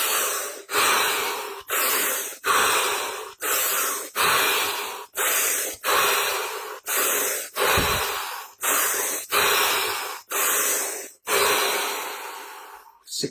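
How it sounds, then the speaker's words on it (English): Deep, forceful breaths during a breathing exercise, about a dozen loud close inhale-exhale cycles in a steady rhythm, each a rushing airy hiss separated by brief pauses. "7 deep breaths, 60 seconds, absolute stillness and silence"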